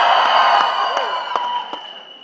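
A crowd at the Singham Again trailer launch cheers loudly and steadily, a dense roar of voices with a few whoops and claps standing out.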